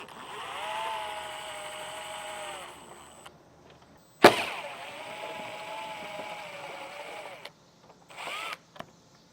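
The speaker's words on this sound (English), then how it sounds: "with a T30 star bit or Torx, we're going to go ahead and get our screws removed" A power driver fitted with a T30 Torx bit spins out tail light screws on a 2024 Chrysler, with several steady whirring runs of a few seconds each, close and fairly loud, separated by brief pauses and a sharp clack.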